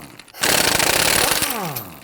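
A power tool fitted with a 19mm socket loosens the front wheel lug nuts on a 2001-2009 Volvo S60, firing a loud, close, hammering burst of about a second before winding down.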